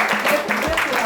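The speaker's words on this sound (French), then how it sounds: "On l'applaudit, Yann!" Applause from an audience at a school sports gala awards ceremony, a dense wash of clapping that stays steady throughout the short stretch, with a voice audible over it.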